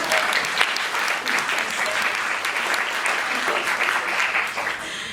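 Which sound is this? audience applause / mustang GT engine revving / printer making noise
audience applause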